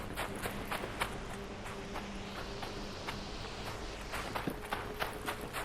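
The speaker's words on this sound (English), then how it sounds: "I heard footsteps." Footsteps in the video game ARC Raiders, a steady run of quick, crisp steps that stay fairly close and clear, with no talk over them.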